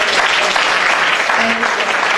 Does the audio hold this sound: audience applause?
yes